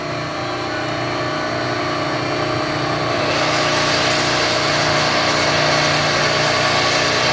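The electric motor of a 12-ton Wabash hydraulic press runs with a loud, steady hum and whine that grows a little brighter partway through, with no voices over it.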